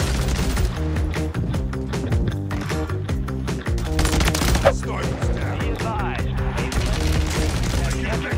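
Rapid gunfire from a Warzone zombie royale match, dense bursts of sharp shots in quick succession, loud and close, with game effects mixed in.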